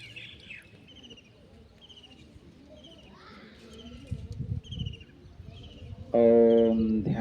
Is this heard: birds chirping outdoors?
yes